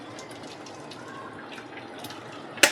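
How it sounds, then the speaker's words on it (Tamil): Cooked agarkai drink pours and trickles steadily through a kitchen strainer, a soft continuous liquid sound ending in a sharp clink of metal. "இப்போ நம்ம வடிகட்டிடலாம்"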